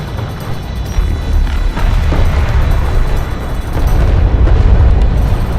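A destroyed cruiser explodes in Homeworld: Deserts of Kharak, a loud, continuous rumbling blast with low, eruptive roar that swells and sustains throughout, heavy and close.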